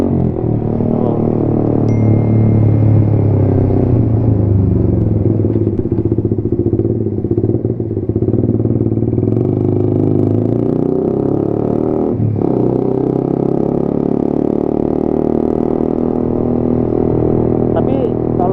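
A Suzuki GSX-R 150 engine drones loudly and steadily while riding. It dips briefly as the rider makes a clutchless upshift from third to fourth gear, then carries on.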